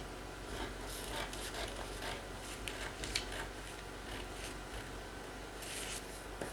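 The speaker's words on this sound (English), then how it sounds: "So make we cut our pattern now. So we go cut the side." Fabric being cut along the side of a bra pattern with scissors, giving faint, steady snipping and rubbing sounds at close range with no talk.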